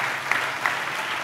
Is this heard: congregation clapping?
yes